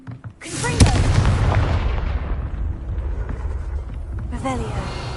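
A heavy Confringo spell explosion in Hogwarts Legacy erupts with a sharp crack, then a long rolling boom and rumble that slowly decays, with brief chirps and game effects at the start and end.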